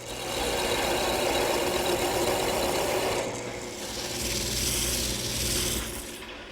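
A wooden ball finial for a mailbox spinning on a lathe while being sanded: a loud continuous motor drone with a coarse, hissing rub that shifts in tone partway through, no voices.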